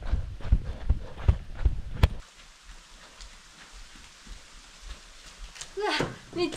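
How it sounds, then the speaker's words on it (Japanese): Heavy rain falls at an unmanned campground during a night of sleeping in a car, a steady hiss after some sharp thumps at the start, with voices rising near the end. "めっちゃ雨降ってきた。"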